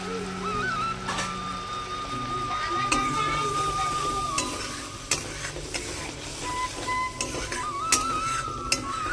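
Continuous sizzling and hissing from a pan of mustard paste masala as water goes in, with scattered sharp clinks of a pot or utensil throughout; no talk.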